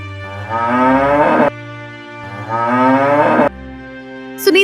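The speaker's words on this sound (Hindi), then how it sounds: "बेचैन होकर गौशाला में रंभाने लगती है" Two long, loud cow moos from a cow in a cowshed, each rising and swelling before cutting off, with a short pause between them and close, clear tone.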